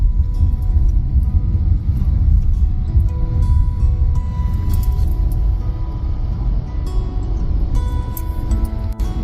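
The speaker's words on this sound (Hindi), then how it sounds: "आज बहुत ज़्यादा ट्रैफिक है लालड़ू में, और अभी तो लाइट्स बड़ी दूर हैं" Road traffic jam in Lalru with idling vehicles, a dense low engine rumble that stays steady and close, broken by faint distant horn tones and no talking.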